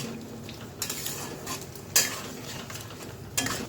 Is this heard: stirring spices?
yes